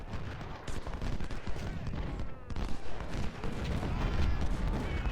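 Artillery fire in the Ultimate General: Civil War strategy game, a continuous rumble of overlapping cannon booms and musketry crackle, fairly steady with a swell toward the end and light talk faintly underneath.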